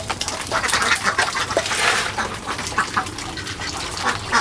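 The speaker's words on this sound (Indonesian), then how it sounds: "seorang peternak diberikan 1 ekor itik jantan dan 55 ekor itik betina" Ducks on a duck farm quack as a dense, loud chorus of overlapping calls with constant chattering from many birds, no speech.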